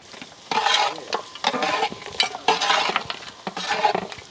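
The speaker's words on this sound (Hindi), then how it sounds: "इसी में हम लोग रेड चिली पाउडर ऐड करेंगे, लाल मिर्ची पाउडर, रेड चिली पाउडर, और इसी को हम लोग अच्छी तरह मिक्स कर लेंगे।" Mutton pieces are stirred in a pan with red chili powder, making repeated scraping, sizzling bursts and clinks of a spoon against the metal, rhythmic and close.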